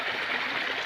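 Heavy downpour with rainwater rushing along a road, a dense continuous hissing wash of flowing water, loud and close, filling the brief moment without any voices.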